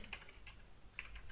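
Keys clack on a computer keyboard as code is typed, a few quick, quiet clusters of taps at close range with no talking.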